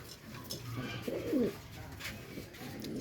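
Soft coos of Beauty Homer pigeons come and go over a murmuring background, with brief clicks and rustles around them.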